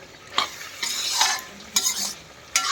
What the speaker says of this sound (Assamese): মাংসটো পূৰা ভাজি আছোঁ মই ধুনীয়াকৈ।